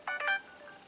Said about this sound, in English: I'm sorry for my phone going off.